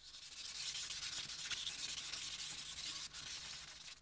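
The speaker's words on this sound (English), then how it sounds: "My next step is to give it one final sand." Steady hiss of sandpaper rubbing across wood, continuous and close, with a brief catch near the end; no voices.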